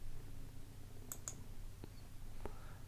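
A computer mouse clicks on a navigation bar in a quiet room: two quick clicks close together, then a couple of fainter single clicks over a low, steady hum.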